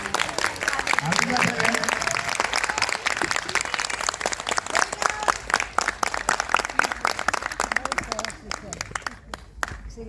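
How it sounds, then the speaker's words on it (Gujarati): A cinema audience in Nadiad welcomes actress Jinal Belani with loud, continuous clapping and voices mixed in. The applause thins near the end to a few scattered, sharp claps. "આપણે એમને તાળીઓના ગડગડાટથી વધાવીશું."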